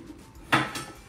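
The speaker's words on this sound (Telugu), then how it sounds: "రాగానే గిన్నెలు ఎత్తుక్కుంటా ఉంది ఏం చేసామని." Cooking pots lifted and handled in a home kitchen after lunch, giving one sharp metallic clatter and a softer knock that follows it, close and brief against quiet room tone.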